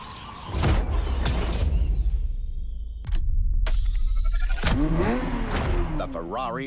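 A Ferrari F50 engine in The Crew Motorfest revs hard and accelerates, its pitch climbing in repeated sweeps between gear changes and ending in a fast rising, warbling whine, loud and close.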